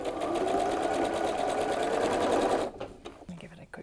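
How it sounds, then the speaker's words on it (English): A sewing machine stitches quilt pieces for a tulip double wedding ring block, its fast even needle chatter running steadily up close for over two seconds before stopping abruptly into quiet handling noise. "And then we're going to sew those in."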